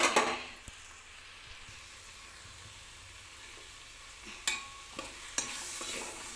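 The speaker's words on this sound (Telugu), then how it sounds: "ఈ క్యాబేజీ కూరను మంచిగా అడుగు మాడకుండా అడుగంటకుండా ఎప్పుడు కలుపుకుంటూ ఉండాలి" Cabbage curry cooking in a pan over a medium flame, a quiet low sizzle broken by a few sharp scrapes and taps of a spoon against the pan while it is stirred, with no voices.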